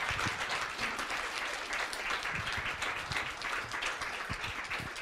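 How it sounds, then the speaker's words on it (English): Audience at a leadership forum applauding the panel after a discussion on misinformation: sustained, even clapping from a large crowd, moderately distant and continuous throughout. "Please join me in a round of applause for our excellent panel."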